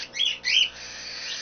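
A hand-fed cockatiel gives two sharp, loud squawks in quick succession, then a softer, thinner call trails off.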